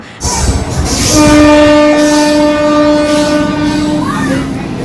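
Passenger train in India heard from inside a ladies' compartment, a steady loud rolling rumble with a long sustained horn tone running through most of the stretch and faint voices underneath.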